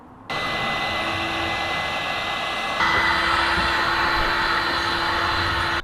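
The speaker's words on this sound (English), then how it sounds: "I can get it off quickly with a heat gun" A heat gun blasts at old paint on panelling, a loud steady blowing roar that starts abruptly and steps up in intensity about halfway through, running alone.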